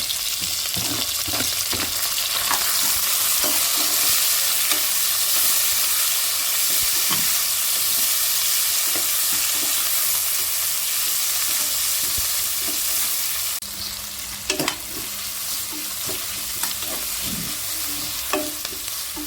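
Onions frying in oil with bay leaf for vegetable biryani, a steady loud sizzle with scattered stirring scrapes and clicks throughout, the hiss briefly dropping and resuming near the end.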